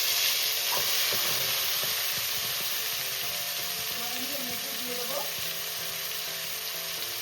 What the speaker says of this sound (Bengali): এবার আমি মশলাটা দিয়ে দিচ্ছি।